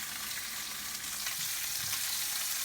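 Steady, bright sizzling of cherry tomatoes frying in hot oil over medium heat, with faint scraping and stirring sounds mixed in.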